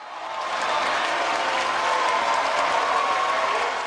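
Loud, sustained applause and cheering from a large, frenzied crowd at a live show, continuous and dense throughout with no pauses.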